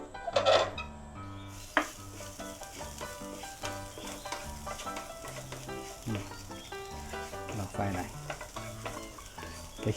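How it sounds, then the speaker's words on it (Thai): Garlic tossed into a hot pan sizzles steadily while a utensil stirs it, with occasional metallic scrapes and clinks against the pan, close up, over a faint tonal background and with no talking. "เดี๋ยวเราโยนกระเทียมใส่เข้าไปเลย"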